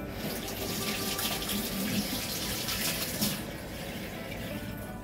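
Water running from a tap into a cooking pot to be heated, a steady close rushing and splashing stream that holds constant throughout, with no speech.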